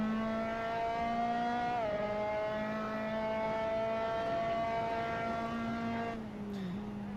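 Formula 3 RSR race car engine in Assetto Corsa at Road Atlanta, a loud steady harmonic drone that steps down in pitch around a gear change, then holds and briefly dips again near the end.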